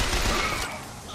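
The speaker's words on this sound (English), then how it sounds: "That was quite an explosion." A loud burst in the shooter game Bioshock Infinite, a dense crackling blast like rapid gunfire that fills the first half-second, then trails off into a noisy rumbling decay.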